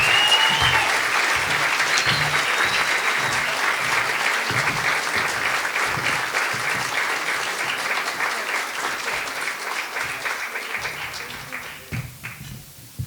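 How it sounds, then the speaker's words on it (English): An audience applauds at a talk about a California Highway Patrol officer, the dense clapping loud at first and then gradually thinning out toward the end. "another round of applause, everybody"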